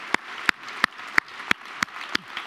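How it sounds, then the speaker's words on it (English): Sparse, rhythmic clapping at a conference as a jury returns to the room, about eight evenly spaced claps, fairly faint in a quiet space. "Give them a big applause."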